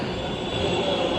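Steady rumble of a metro train with a faint high squeal from the wheels, continuous and fairly close for a short moment.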